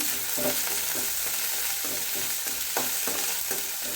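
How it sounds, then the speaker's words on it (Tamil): Green chillies and coriander sautéing in a pan for rava kichadi, with a steady close sizzle of oil and light scraping stirs recurring every half second or so, no voices. "கொத்தமல்லி அதில் போட்டு வதக்கிடுவோம்"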